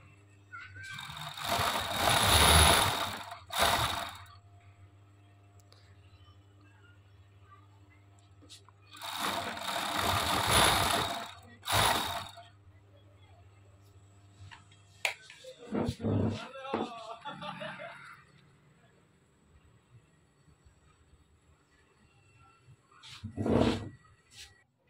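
A sewing machine stitches the side seam of a dress in two loud, close bursts of a few seconds each, separated by pauses; a person talks between and after the stitching runs.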